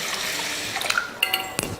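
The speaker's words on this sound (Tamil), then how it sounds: "இப்போ இதில் தண்ணி சேர்த்துடலாம்." Water poured into a bowl of washed rice and urad dal for soaking, a soft steady pour with small splashes and a couple of clinks from the vessel toward the end.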